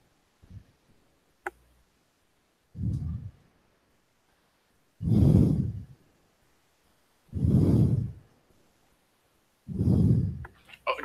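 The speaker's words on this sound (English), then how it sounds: "quit breathing right on your mic" Heavy, noisy breaths blown straight into a microphone, four or five long loud gusts spaced a couple of seconds apart, with faint clicks and near silence between them.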